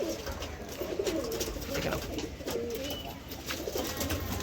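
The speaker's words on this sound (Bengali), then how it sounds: "দেখে নাও পায়রাটা ঠিক আছে দেখে নাও পায়রা স্ট্যান্ডিংগুলো দেখে নাও" Madras pigeons in a loft coo steadily and close by, their low throaty calls overlapping continuously against a busy background murmur.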